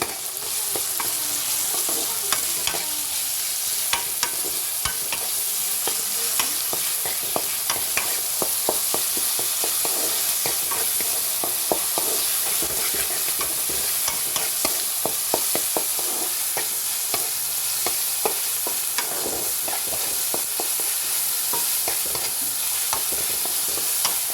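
Chopped onions with chili and salt sizzle steadily in a pan, with frequent clinking stirs of a spatula over a constant frying hiss, up close and without talk.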